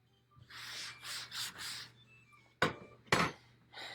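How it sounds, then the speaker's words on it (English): A spoon is wiped clean of shaving cream at a table, with several soft rubbing swipes followed by two sharper scraping strokes, close and fairly quiet. "We'll come back through and we will wipe off our spoon."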